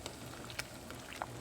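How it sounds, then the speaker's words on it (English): Water at a rolling boil in a pot bubbles faintly and steadily, with a soft hiss and a few sharper pops of bursting bubbles scattered through it. "You want to get rolling boil, just like you see there."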